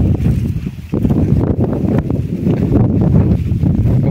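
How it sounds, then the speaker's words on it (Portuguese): Strong wind buffets a microphone outdoors on a rural farm under cloudy skies, a loud, continuous low roar with gusty surges throughout. "O vento tá forte hoje, viu?"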